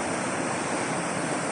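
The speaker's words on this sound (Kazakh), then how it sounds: "Тентек деген өзен таудан ағып түсетін." Mountain river Tentek, fed by snowmelt, rushing down from the mountains near Shym Bulak village in the Alakol district; a steady, dense roar of flowing water fills the short stretch without a break.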